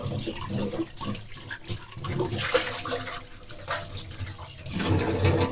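Running water from a tap splashing over a water purifier pre-filter housing as it is washed, a steady uneven gush with shifting splashes and handling noises, close and moderately loud.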